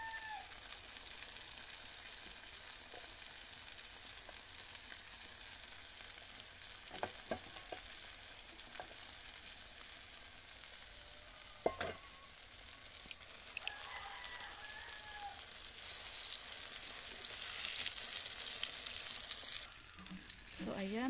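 Food fries in a pan with a steady soft sizzle that grows louder near the end, a few clinks of a utensil, and a rooster crowing faintly in the distance.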